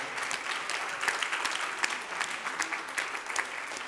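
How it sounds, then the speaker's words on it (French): A gala audience at the Québec en Scène 2020 awards applauds a prize winner, continuous even clapping from a crowd filling the room at moderate level. "On peut l'applaudir, tout le monde."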